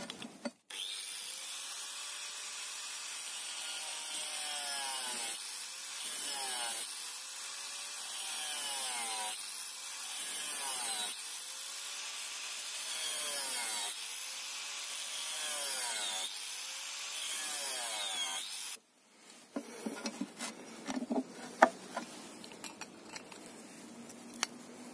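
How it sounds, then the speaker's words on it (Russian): A small cutting disc on a power tool grinds a strip out of material during a homemade tile cutter build, in several sustained whining passes separated by short pauses, followed by lighter scraping and handling. "сейчас маленьким диском дорезаем, получается, полоску вырезаем и с этой стороны вырезаем"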